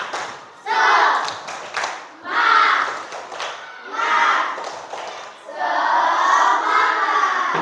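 Schoolchildren in an Indonesian classroom perform a spirit clap chant, four loud bursts of shouted chanting mixed with claps, each lasting about a second and separated by short gaps, the last burst held longest.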